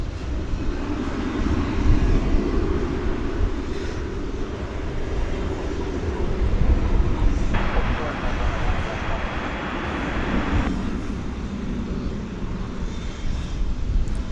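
A UPS MD-11 cargo jet at DFW Airport gives a steady, broad engine roar that holds for the whole stretch, with a brighter hiss rising partway through as it passes, fairly distant.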